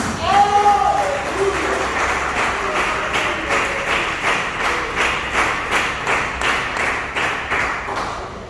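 A church congregation claps hands during a service in a steady, even rhythm, loud and sustained throughout with no one speaking.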